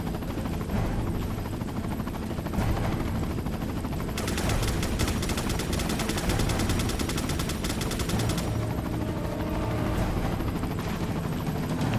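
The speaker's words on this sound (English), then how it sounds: "I can't hear shit over all the explosions!" Dense, continuous battle noise in the video game Resident Evil 4, with rapid gunfire bursts and heavy rumbling explosions, loud and sustained throughout with no talking.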